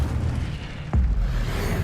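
An Incendio fire spell blast in Hogwarts Legacy, a single sharp thump near the middle that bursts into a deep, sustained whooshing rumble over steady low background noise.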